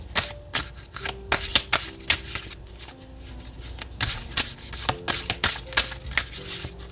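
Oracle cards shuffled by hand during a weekly tarot reading, a run of crisp riffling bursts and soft flicks in an irregular rhythm, close and alone with no talk.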